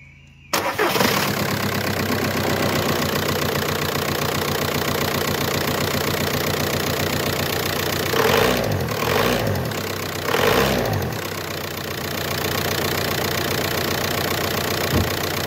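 A 2007 Audi A3 engine cranks and catches, then settles into a steady, close idle that runs unbroken, with a few brief louder knocks and revs partway through.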